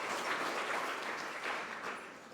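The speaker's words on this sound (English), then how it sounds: "I think she deserves a round of applause" Audience applause at the Guyana Tourism Awards and Gala 2025, a soft, dense wash of clapping heard from a distance, steady throughout at a fairly low level.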